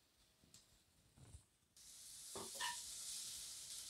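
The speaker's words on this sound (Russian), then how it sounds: "Лук и морковь обжариваем на сковороде." Onion and carrot hit a hot pan and a loud, steady sizzle of frying takes over, close by, with a few scraping stirs.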